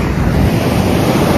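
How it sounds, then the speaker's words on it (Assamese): Sea waves break and wash loudly at Chandrabhaga beach near Konark, Odisha, as a dense, continuous surf roar mixed with strong wind buffeting the microphone, with no voices. "ইয়াতে সাগৰৰ ঢৌটো দেখাইছোঁ আপোনালোকক"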